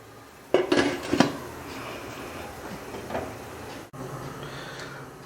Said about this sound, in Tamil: இப்போ நல்லா மூடி போட்டு நல்லா அதை கொதிக்க விடலாம்